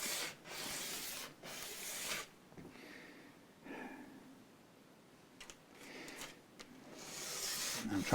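A bone guitar saddle for a Martin HD28 acoustic is rubbed back and forth on sandpaper, making soft, close, rasping strokes in an uneven rhythm with short pauses.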